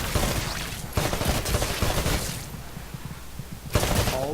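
Rapid bursts of assault rifle and SMG fire from the video game Titanfall on a shooting range, loud and continuous with brief pauses between volleys, no talk.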